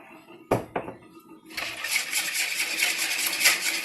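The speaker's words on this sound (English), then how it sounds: "And I'm going to whisk that." Waffle batter with a capful of vanilla flavoring is whisked in a bowl: two sharp clinks, then a steady, rapid scraping whir that runs close and fairly loud to the end.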